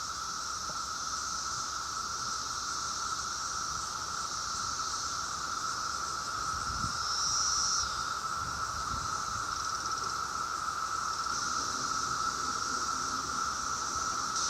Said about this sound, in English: This tree is loaded with cicadas.